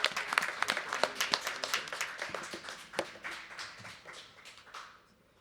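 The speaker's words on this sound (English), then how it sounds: "One more round of applause" A small audience claps for songwriter Thaddeus Williams, a burst of uneven handclaps that starts fairly strong and thins out over a few seconds.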